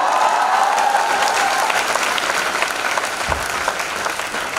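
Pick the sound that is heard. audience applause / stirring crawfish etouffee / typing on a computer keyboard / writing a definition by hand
audience applause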